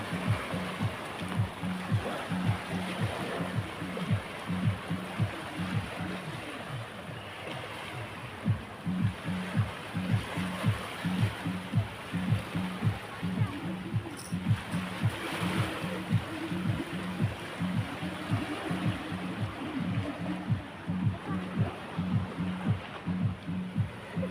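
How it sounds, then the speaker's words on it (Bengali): Meghna river water washes over bare feet at the bank in steady, rhythmic low surges, a continuous close lapping and swirling with no voices. "সাগরের পানি তোমাকে পা ধোয়াই দিবে"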